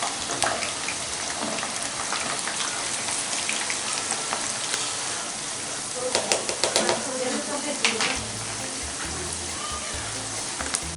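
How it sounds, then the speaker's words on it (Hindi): Okra frying over high flame in hot oil: a steady, rain-like crackle and sizzle, close up, with occasional sharper pops and stirring clatter partway through. "भिंडी इसमें डाल देंगे और इसको आधा होने तक पकाएंगे, फ्राई करेंगे।"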